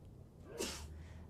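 A single sharp sneeze, quiet and slightly distant, with a soft gasp-like burst and no talking around it.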